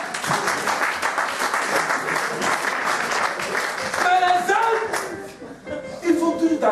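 A church congregation bursts into applause during a French-language sermon, dense clapping filling the room while voices shout and the preacher speaks over it, the clapping thinning as speech takes over.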